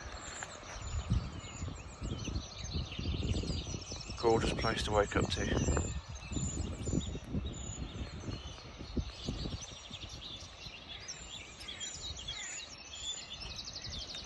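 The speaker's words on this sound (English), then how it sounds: "If you can hear those birds." A dawn chorus of many wild birds in a chilly outdoor camping spot, with steady high chirps and a brief burst of louder calls, heard mostly in the background beneath someone talking.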